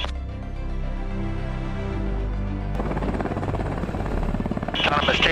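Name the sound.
Sikorsky OPV Black Hawk helicopter taking off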